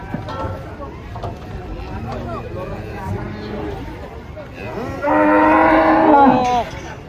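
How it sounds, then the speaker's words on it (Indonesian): A large cow bellows in a long, loud moo near the end, after people talk over low background noise. "Kedatangan sapi ngamuk."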